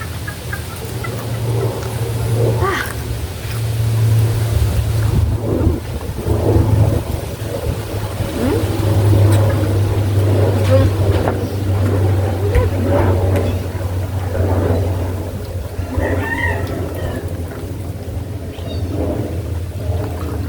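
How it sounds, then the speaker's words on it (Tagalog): Strong wind roars and buffets steadily, a heavy low rumble that never lets up, with faint voices now and then underneath. "Ang lakas ng hangin dito."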